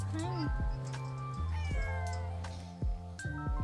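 Several cats meow close by, with a string of distinct drawn-out meows and one rising caterwaul-like cry over about four seconds against a steady background.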